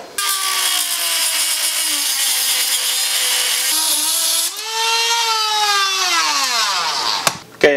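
A Dremel rotary tool cuts through the metal governor arm on a Honda GX270-style go-kart engine with a loud, close, continuous high whine. Its pitch dips under load, then winds down, followed by a sharp click at the end.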